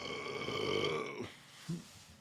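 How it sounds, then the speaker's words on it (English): A long, loud, drawn-out burp with a rough tonal rumble, followed by a short pause and a brief second grunt-like burp. "I'm possessed with burps."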